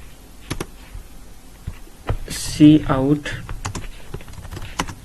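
Typing C++ code on a computer keyboard produces scattered sharp key clicks and taps, close and moderately loud, while someone talks over part of the keystrokes.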